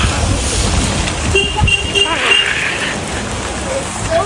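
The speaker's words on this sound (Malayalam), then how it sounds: "ഫുള്ള് നല്ല മഴയാണല്ലോ" Heavy rain pours over a town area of Mairang in Meghalaya, a steady close-up hiss that holds throughout, with a few voices and faint passing sounds underneath.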